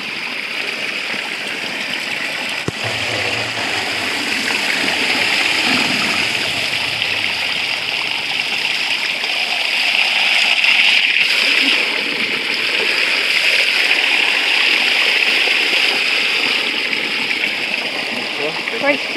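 Cold spring water is poured in a forest, making a loud, continuous splashing and gushing that runs unbroken throughout, with voices faintly under it.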